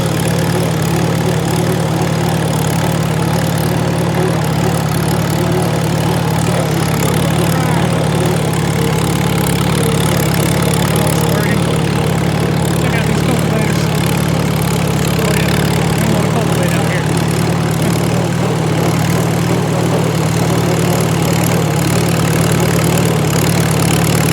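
A Super A tractor engine runs loud and close as it sets up for a third-gear takeoff, with a constant low rumbling drone and a slightly rough, knocking texture that hardly changes throughout.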